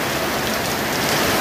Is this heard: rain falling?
yes